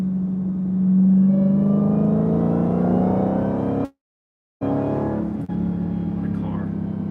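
A Dodge Challenger SRT Demon engine drones steadily at a low, even pitch with a slight swell, then cuts out abruptly into silence for a moment before the same rumble resumes.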